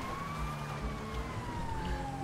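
A police siren wails steadily in a sheriff driving game, the slow rising and falling tone continuous and moderately loud over a rumbling engine and road noise.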